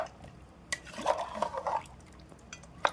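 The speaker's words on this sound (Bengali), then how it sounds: "মাংসটা আমি চামচটা দিয়ে মাখায় নিলাম।" A spoon stirs beef and potatoes in a cooker pot for Peshawari namkeen gosht, making soft wet squelches and a few metal clinks, close and quiet.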